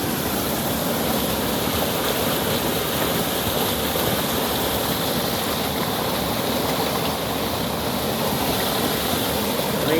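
Water drains steadily out of a rain-filled fishpond through a net-screened outlet toward a river, making a continuous broadband rushing and gurgling flow that stays loud and even throughout, with no voices.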